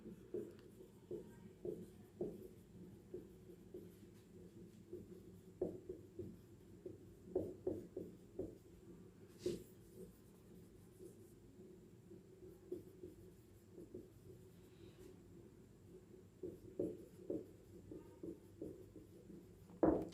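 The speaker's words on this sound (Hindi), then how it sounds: "जैसे एक मैं सेंटेंस लिखता हूँ," A sentence is handwritten during an English grammar lesson, with faint, intermittent scratching strokes coming in short clusters separated by pauses over about twenty seconds in a quiet room.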